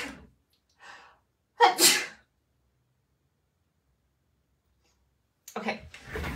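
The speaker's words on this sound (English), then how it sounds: "Usually I sneeze 3 times." Two sharp sneezes close by, each with a quick intake of breath, then a short quiet pause and a brief breathy sound at the end.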